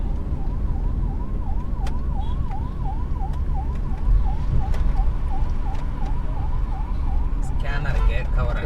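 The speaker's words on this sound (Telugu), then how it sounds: "అంబులెన్స్ వెనకాల" An ambulance siren wails on the road near a toll gate, a fast repeating up-and-down sweep that holds steady through the clip over loud traffic and engine rumble, with brief horn-like bursts near the end.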